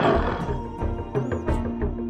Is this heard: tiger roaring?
yes